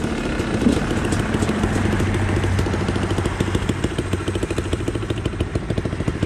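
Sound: Honda XR100 motorcycle engine and exhaust

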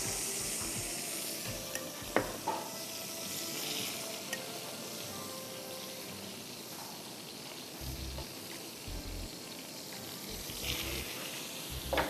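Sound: chicken searing in a pan, cooked on both sides

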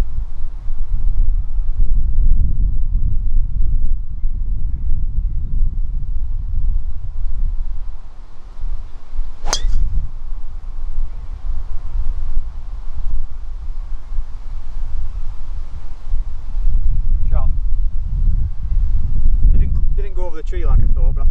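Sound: wind blowing on golf course

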